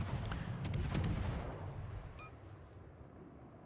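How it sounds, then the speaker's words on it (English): Heavy naval guns boom in a warship battle game as shells strike an enemy ship's bow, a few deep blasts in the first second and a half, then a rumbling decay with faint tonal pings, loud and without speech. "And then we're shooting the bow again"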